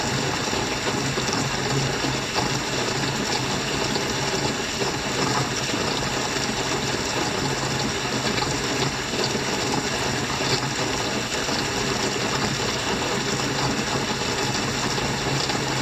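A battery-powered bilge pump moves water in a low-lying yard while a garden hose runs at full blast, giving a steady, continuous gushing and splashing rush that holds evenly throughout at close range, with no talking.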